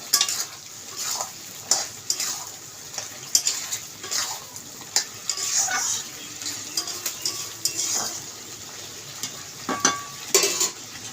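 A vegetable curry of potato, pumpkin and Malabar spinach is stirred in a pot, with a spatula scraping and knocking against the metal in irregular close bursts over a low simmer.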